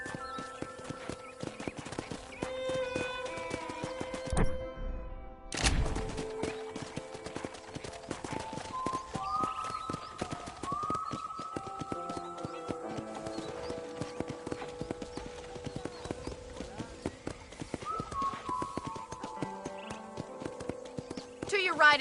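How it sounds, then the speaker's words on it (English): Steady clip-clop of horse hooves at a walking pace in Red Dead Redemption, continuing throughout with a brief pause, over a background of music-like tones. "I picked out a fine horse for you."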